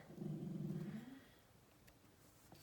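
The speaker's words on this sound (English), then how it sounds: "That's my dog, don't mind him." A dog growls low and steady at close range for about a second, then falls quiet into a faint room background with no talking.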